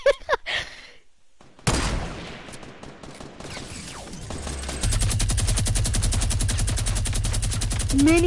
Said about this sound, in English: Minigun destroying.